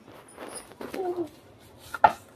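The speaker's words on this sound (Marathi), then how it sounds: "त्या कोथिंबीर बारीक चिरून घेऊया।" Fresh coriander being finely chopped with a knife on a board, a few quiet scattered cuts building to one sharper, louder chop near the end, with no talking.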